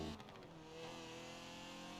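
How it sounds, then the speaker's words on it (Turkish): A BMW M3 in the Forza Horizon 4 racing game revs hard as the throttle opens, giving a steady, loud, continuous engine roar with no talking over it. "Biraz gaz açalım bakalım."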